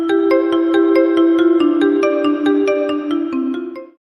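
A phone ringtone plays a bright, repeating melodic pattern loudly and alone for about four seconds, then cuts off abruptly.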